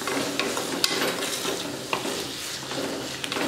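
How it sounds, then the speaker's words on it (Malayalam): Sliced onions with salt are stirred in a pan for a Kerala-style egg roast, a soft continuous sizzle broken by light scraping clicks of the spoon against the pan, close up with no talking. "ഉപ്പിട്ട് നന്നായിട്ടൊന്ന് മിക്സ് ചെയ്യുക."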